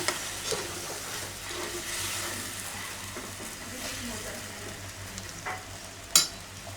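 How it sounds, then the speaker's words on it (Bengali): Vegetable stalks frying in oil with onion for a chochchori, a steady close sizzle with stirring scrapes and a few sharp utensil clicks near the end. "এখানে ডাটা চচ্চড়ি হচ্ছে, তার কারণে পেঁয়াজ আর তেল দিয়ে তেলে দিয়ে দিচ্ছি। তেলে দিয়ে দিলাম ডাটা।"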